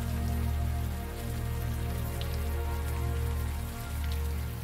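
Warm rain falling in the video game Unavowed, a steady, dense wash of hiss and patter that holds a constant level throughout, with no talking.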